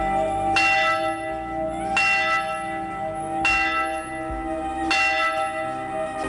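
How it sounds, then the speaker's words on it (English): A church bell at St. Sebastian's Church in Katuwapitiya tolls in slow, evenly spaced strokes, about four clear rings with long resonant decay, loud and close, marking the Easter terror attack victims; no talking. "The church bell rang precisely at 8:45 this morning, marking the terror attack that claimed the lives of many devotees."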